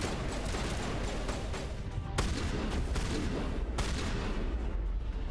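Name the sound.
shotgun fire in Mass Effect video game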